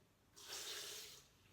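Running water from a tap splashes into a blender jar for about a second, a bright hissing pour that starts abruptly and tapers off in a quiet kitchen.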